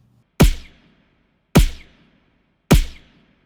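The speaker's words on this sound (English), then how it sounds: "I think we got pretty close to a more cartoonish gun sound" Cartoonish gunshot built from layered body hits and voice sounds: three punchy, booming shots fired alone at even intervals, each a sharp crack with a short decaying tail.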